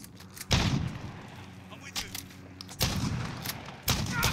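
Gunfire in the shooter game Modern Warfare 2019, three loud booming shots spaced a couple of seconds apart with softer distant pops between them and background game ambience.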